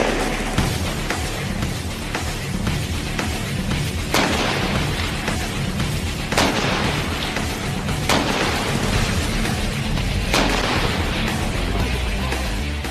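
Sniper rifle shots fired at a 400 m target ring out as about four sharp reports, spaced a couple of seconds apart, over a constant noisy outdoor background.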